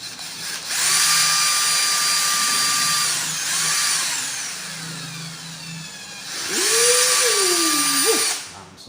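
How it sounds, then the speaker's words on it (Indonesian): An electric drill bores holes in an enclosure for a homemade 5-volt USB adapter: three loud, close whining bursts, each a few seconds long, with a pitch that sweeps and drops as the last one bites in, separated by brief lulls. "Nah, kita bor juga di sini."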